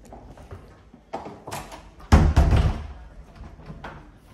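A small door in an apartment is handled, giving a few knocks and rattles, then a loud close thud with a brief rumble, followed by quieter clatter and shuffling nearby.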